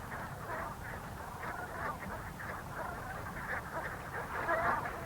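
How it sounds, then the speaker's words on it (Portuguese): Canada geese and other waterfowl call from sheltered coastal waters of southern Alaska, a dense, continuous chorus of honks and quacks blending into a steady murmur, with a slightly louder burst near the end. "milhares de aves aquáticas, como estes patos do Canadá, passam a noite nas abrigadas zonas costeiras do sul do Alasca"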